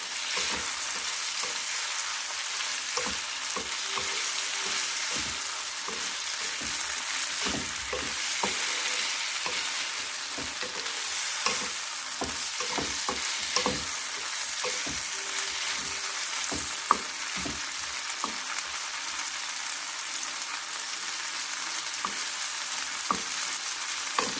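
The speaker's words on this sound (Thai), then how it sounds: "ก็ใช้เวลาผัดประมาณ สองถึงสามนาทีนะคะทุกคนจนมะเขือเทศเราสุก" Tomatoes stir-fried in a pan for a shrimp salad in balsamic sauce, a continuous hiss of sizzling oil at close range, broken by frequent light scrapes and taps of the spatula, no talking.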